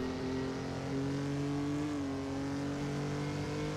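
A Maserati 250F race car in Assetto Corsa at Monza, its engine holding a loud, steady, tonal drone that dips slightly in pitch and then recovers while the car rounds a corner.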